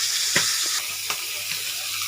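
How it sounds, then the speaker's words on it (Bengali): Fish frying in a pan, a steady high sizzle with a few brief clicks and stirring knocks, close and continuous for about two seconds with no talk. "তো ফাইনালি আমার সব মাছ ভাজা হয়ে গেছে"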